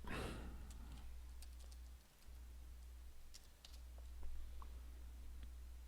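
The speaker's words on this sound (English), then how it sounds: "So now we are prompted with a username. Let's go ahead and type it." Quiet, irregular clicking of keys on a computer keyboard as a username is typed, faint and close over a steady low hum.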